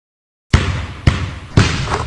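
Three loud basketball bounces on a hard floor at an even pace, each with a sharp thump and ringing echo in a large room.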